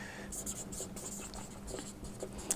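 Pen scratching across paper in short strokes while handwriting English lesson notes, close and quiet, with faint speech in the background.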